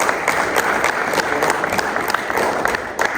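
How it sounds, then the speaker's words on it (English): Audience at a South Ontario Cricket Association annual general meeting breaks into a round of applause, dense continuous clapping from a crowd, loud and steady throughout with no voices over it. "giving them a great round of applause"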